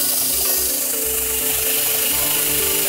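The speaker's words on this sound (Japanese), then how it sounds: "で徐々に徐々にこう角度を変えながら変えながらソケットを削っていきたいと思います。" A golf club head socket being filed down by hand during wedge assembly, a steady, continuous rasping scrape with a repeating back-and-forth stroke rhythm, loud and close with no talk.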